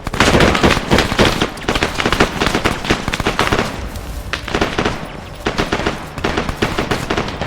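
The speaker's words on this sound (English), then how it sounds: "I hear and see grenades and stuff on the road" Loud, sustained video game combat: continuous rattling gunfire mixed with booming grenade explosions along a road, dense and overlapping throughout with no break.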